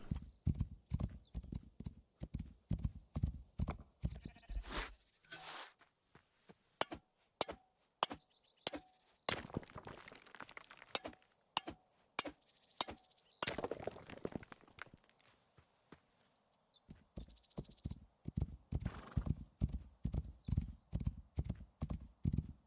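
Video game horse in Rising World with rhythmic hoof clip-clops throughout, a whinny, and quieter stretches of other movement in between, sounding close and fairly clear with no talk over it.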